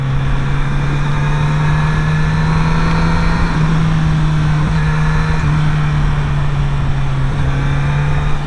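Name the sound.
Kawasaki Z900RS motorcycle engine while riding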